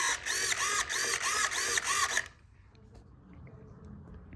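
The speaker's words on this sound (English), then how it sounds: "And so here's my aileron operating." A servo drives the aileron on a Nexa SBD Dauntless RC plane, a close, buzzing whine in repeated rapid back-and-forth strokes for about two seconds, then stopping abruptly into quiet.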